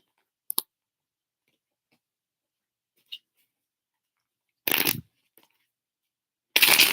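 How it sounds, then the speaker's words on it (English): Tarot cards being shuffled during a live reading, heard as a few brief separate bursts: a sharp click, a faint tick, then two longer riffling shuffles near the end, otherwise quiet with no talking. "Let me shuffle these cards so I can give you a fresh reading."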